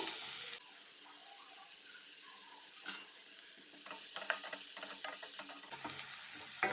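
Onion fries in a pan for an Indian-style chicken stew, a soft, fairly distant sizzle with intermittent stirring scrapes and clatters.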